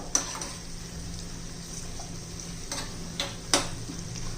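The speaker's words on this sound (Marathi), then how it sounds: "तो पण चांगला लाल होईपर्यंत आपण कुरकुरीत होईपर्यंत तळून घेणार आहोत" Sliced onion fries until red and crisp in a small tempering pan with a quiet, steady sizzle, punctuated by a few sharp clicks of utensils against the pan.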